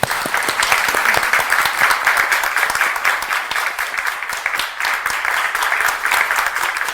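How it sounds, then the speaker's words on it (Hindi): An audience claps at a motivational talk, with sustained loud applause filling the whole seven seconds, many hands clapping evenly and no pause. "इसके लिए जोरदार तालियां दोस्तों।"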